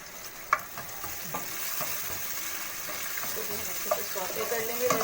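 Cabbage and mixed vegetables sautéing in a hot pan for BBQ rice, a steady sizzle with scraping stir strokes and occasional utensil knocks, close and moderately loud, no talking.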